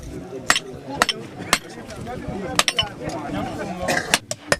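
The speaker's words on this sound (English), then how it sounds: "Now the smiths bend the socket around the handle of a hammer to give it a good uniform shape." Village smiths hammering an iron hoe socket around a hammer handle during traditional African ironworking, giving sharp metallic strikes in an irregular rhythm of about a dozen blows, close and loud, over background voices.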